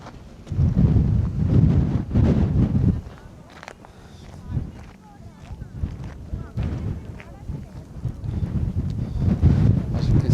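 Strong wind buffets the microphone on an exposed hilltop walking spot, heavy low rumbling gusts swelling and easing throughout, loudest at the start and end, with a person's voice faintly underneath.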